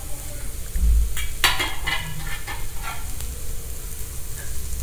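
A vegetable mixture with carrot and coriander leaves sizzling in a pan as it is stirred, a steady frying hiss with a few close spatula scrapes and taps in the middle.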